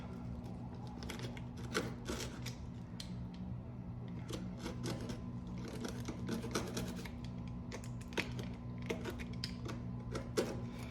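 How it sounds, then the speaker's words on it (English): A box cutter scraping and hacking at hardened resin on a Halloween village display base, with a steady run of dry rasping scrapes and sharp clicks over a constant low hum, no talking. "I've got a box cutter here, and I'm gonna try to just kind of smash this down here and see if we can get a little more of this cut off"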